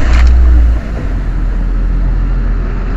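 A manual-transmission car engine starts with a loud, brief cranking burst in the first moment, then settles into a steady, low, continuous idle rumble, close and alone.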